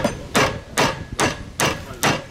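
Hammer driving blunted nails into traditional wooden shingles laid on a roof between joists, five sharp evenly spaced strikes with a slightly bouncy, woody ring, loud and close.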